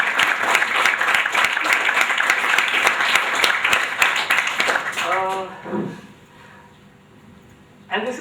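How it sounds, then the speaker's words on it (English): Audience applause at an artist's talk during a photography festival, steady sustained clapping from a crowd for several seconds that fades out, followed by a quiet pause and a renewed burst at the end. "Can we just have a round of applause for,"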